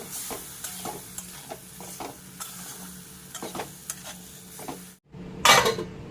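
Bay leaf, chili and cumin tempering in hot oil, a steady crackling sizzle broken by repeated clinks and scrapes of a utensil, then a brief pause and a louder burst of frying.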